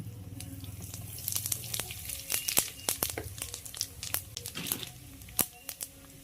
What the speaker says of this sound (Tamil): பெருங்காயம் நல்லா எண்ணெயில் பொரிஞ்சிருச்சு